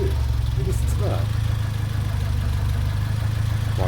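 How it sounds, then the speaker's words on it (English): A turbocharged Fiat Cinquecento engine with a fixed MAP sensor idles steadily with a low, even rumble, and a faint voice is briefly audible. "that map sensor has worked a treat. Just idling."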